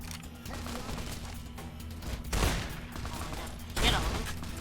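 Video game gunfire, a steady rattle of rapid shots with two louder bursts standing out partway through and near the end, continuous and close.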